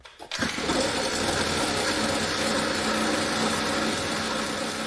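A 2010 motocross mini dirt bike engine catches after a short cranking sputter and settles into a steady, loud, buzzing idle close to the microphone, with no talking.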